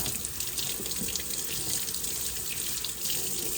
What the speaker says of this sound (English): let me rinse some water here